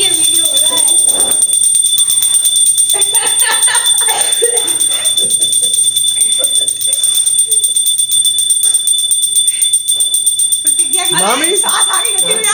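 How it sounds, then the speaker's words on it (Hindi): A bell rung hard and fast during a Makar Sankranti household gathering, bright repeated metallic ringing with a steady high tone running throughout, while people talk and call out over it. "मामी मामी आप बहुत तेज घंटी बजा रही हो"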